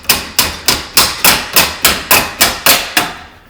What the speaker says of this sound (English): grab a hammer, and you go underneath, and you're gonna start to pound on the little rubber piece right down there